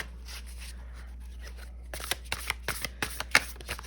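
A new, slightly sticky deck of tarot cards is riffled in quick, close bursts of crisp flutters and taps, preceded by softer rustling handling over a low steady hum.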